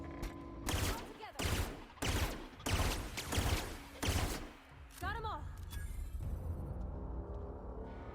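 Semi-automatic gunfire in The Outer Worlds video game rings out as a series of loud, sharp bursts of close shots in irregular clusters, followed by a chirping electronic sound and a lingering rumble.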